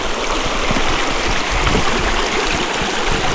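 Creek water rushes steadily over rough Class 4 rapids in a remote California canyon, a dense, continuous roar that stays close and loud throughout with no voices.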